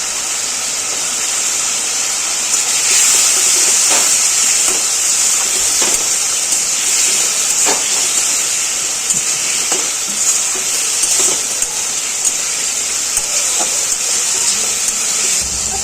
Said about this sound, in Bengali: মশলা কষাতে কষাতে এবার কাটা ঝিঙেটাও দিয়ে দিলাম।